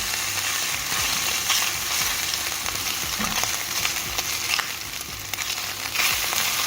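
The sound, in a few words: onions and garlic frying in oil for deviled chicken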